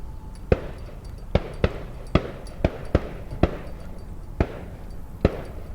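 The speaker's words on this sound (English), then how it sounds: "By the way, those are gunshots." Gunshots from a nearby shooting range crack out as about a dozen sharp, irregular reports heard outdoors at a lakeside, moderately distant and alone over a quiet background.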